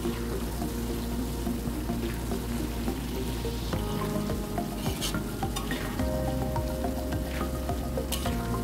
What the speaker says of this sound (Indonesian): jika kita sedang menggoreng bawang, harus sering dikontrol dan diaduk supaya tidak gosong